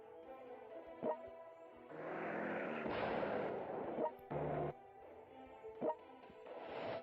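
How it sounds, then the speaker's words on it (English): Video-game artillery in World Conqueror 3 fires repeatedly, giving muffled booms and crackling blasts in uneven bursts over a low rumbling background. "With all that artillery coming in."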